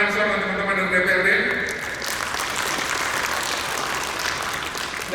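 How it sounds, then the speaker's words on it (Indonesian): Audience applause at a provincial government launch event in NTT, Indonesia, breaking out as a voice trails off and continuing as an even, moderately loud wash of clapping from a seated crowd. "tepuk tangan dulu buat Pak Muhammad Ansor dan teman-teman dari DPRD"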